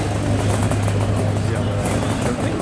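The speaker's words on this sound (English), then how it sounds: "Number 336, Pete McGuinness, Kawasaki S2" A 1972 Kawasaki S2 498cc two-stroke motorcycle at the Brighton Speed Trials gives a steady, loud engine buzz at speed, with a commentator talking over it.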